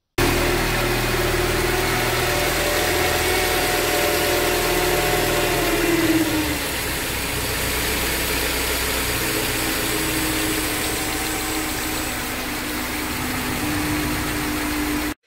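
A Mercedes with a KE-Jetronic fuel injection engine starts and settles into a steady idle, a continuous close mechanical hum with a slight drop in pitch after the first few seconds, with no talking.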